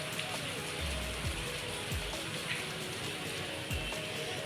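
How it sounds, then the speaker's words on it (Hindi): Steady, dense rainfall patters and hisses on surfaces throughout, with a few faint low thumps underneath. "अब बहुत तेज़ बारिश हो रही है गाइस"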